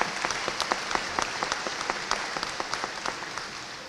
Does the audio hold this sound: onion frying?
no